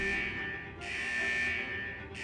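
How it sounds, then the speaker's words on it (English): Wuthering Waves video game: the vault's central alarm sounds as a steady electronic buzzing tone that pulses on and off in long repeating blasts, with no voices over it. "Is that the central alarm of the vault?"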